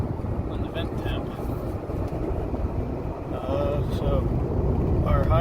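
A Porsche 928 cruises along with a steady low road and engine rumble and some wind noise, with a voice talking briefly over it.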